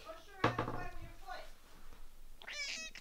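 A pet cat meows several times at close range, with a sharp cry near the start and a longer drawn-out meow toward the end, over a quiet room background.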